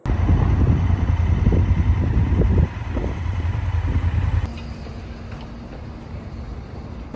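A motorcycle rides along Irish roads between Dublin and Northern Ireland, with rumbling engine noise and wind buffeting loud and close, then easing to a lighter, steadier drone.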